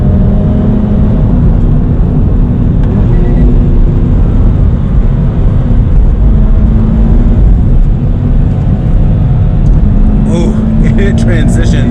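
A 2020 Toyota GT86 Hakone Edition with a manual gearbox pulls hard at full throttle, its engine droning loudly and steadily throughout under heavy road and wind noise.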